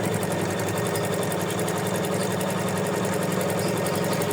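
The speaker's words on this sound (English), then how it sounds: "we can hold it a little bit here to make it easier for our machine to stitch it" A home embroidery machine stitches felt held in its hoop for an in-the-hoop tulip project, giving a steady, close, fast mechanical whirr with a rapid even needle rhythm throughout and no talking.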